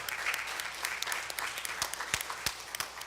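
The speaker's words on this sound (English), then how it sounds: "Round of applause for Mr." Applause at a student invention championship showcase, continuous crowd clapping with several louder individual claps standing out near the end.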